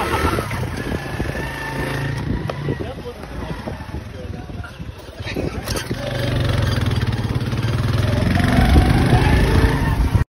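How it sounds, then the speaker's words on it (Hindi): An old motorcycle that might break down at any moment rides through Kashmir, its engine rumbling steadily and close up, growing louder toward the end, with someone talking over it. "अभी हम लोग इस बाइक पे जा रहे हैं जिसका हमें कोई पता नहीं कहाँ पे बंद हो जाए"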